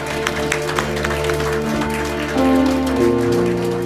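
A church congregation claps in a sustained wash of applause mixed with held musical tones, getting somewhat louder toward the end.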